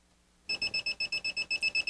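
A KAiWEETS KM200S digital multimeter's voltage detector beeps rapidly near a live wire, a dozen evenly spaced shrill electronic pulses in quick succession, loud and close.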